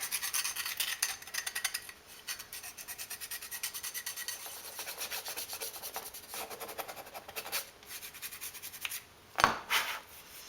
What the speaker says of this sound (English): So we're going to be filing away for a little bit here.